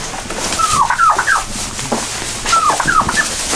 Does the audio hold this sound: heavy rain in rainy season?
no